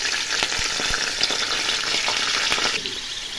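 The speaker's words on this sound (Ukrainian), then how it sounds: "Ой, будуть в мене на сковороді смажені." Steady, dense sizzling of sausages frying in a hot pan, with small pops and crackles throughout and no talking.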